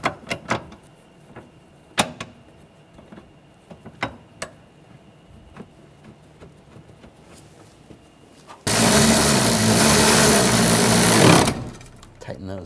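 Power tool tightening the intake manifold bolts on a 2009-2013 BMW 328i xDrive with a 3.0L inline-six: scattered small clicks and taps, then a loud, close burst of continuous whirring that runs for about three seconds before stopping.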